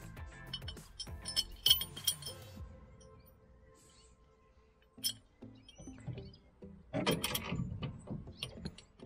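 A flat washer and nut are fitted onto an axle bolt on a shredding machine's chassis, with scattered metallic clinks, small taps and tool rattles up close, quiet between bursts.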